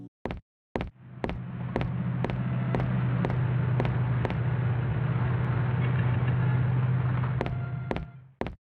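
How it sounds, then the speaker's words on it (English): Distant cars in the PS1 horror video game Germs pass as a low, steady engine drone that swells and fades over several seconds, punctuated by regular sharp ticking clicks before and after. "you can hear the sounds of distant cars every once in a while"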